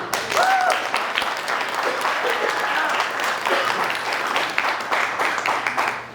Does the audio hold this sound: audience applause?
yes